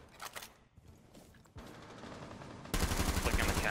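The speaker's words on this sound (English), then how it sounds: "I shot him in the head!" Gunfire in a first-person shooter game: quiet at first, then a steady crackle of rapid shots that grows louder and denser toward the end.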